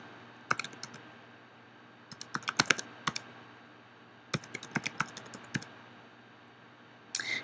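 Fingers type on a computer keyboard while editing a WordPress page permalink, producing scattered clusters of crisp, close key clicks separated by quiet pauses.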